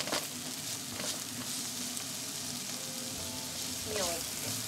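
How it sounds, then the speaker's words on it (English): Onions sautéing in a pan for a vegan curry, a steady close sizzle and crackle with light stirring scrapes and a brief soft voice in the background. "Saute them until it's translucent."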